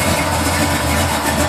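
A 1987 Buick Regal's 455 engine, fitted with a new exhaust, idles with a deep, steady, close rumble and no talk.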